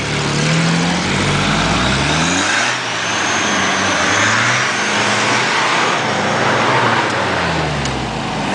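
Traffic on a highway, a continuous wash of engine noise and tire roar with vehicles revving and passing nearby, fairly loud and steady throughout.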